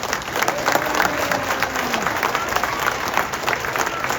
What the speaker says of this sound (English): Could you please give a round of applause for our board of directors?